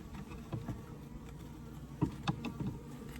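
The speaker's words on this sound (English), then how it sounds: "There's a lot of bees on that one too." Honey bees buzz around an open 24-frame Layens hive during an autumn inspection, a low steady hum with scattered brief louder passes and light handling knocks close by.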